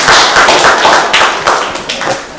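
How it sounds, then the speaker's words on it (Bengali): Children clap their hands in a classroom after being asked to, a burst of quick loud claps that thins into a few scattered, fading claps. "তোমরা সবাই হাততালি দাও"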